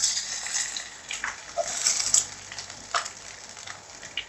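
Chopped shallots and garlic dropping into a hot pan for Kerala potato mezhukkupuratti, giving a light sizzle with scattered clinks and small pan knocks.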